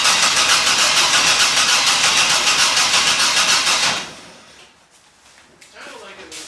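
A Vortec 4200 engine in a Fairmont Futura cranks loudly and steadily with a rhythmic starter whir for about four seconds, then stops, leaving quieter background noise and a brief faint sound near the end.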